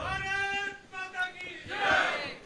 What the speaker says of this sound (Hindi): कवि सम्मेलनों में भारत माता की जय के नारे लग रहे हैं